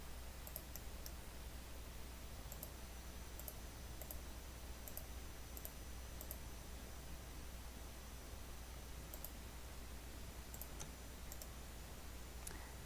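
Mouse clicks while drawing in Rhino 3D modelling software: a few soft, sparse clicks scattered over a steady low hiss, quiet and close, with no talking.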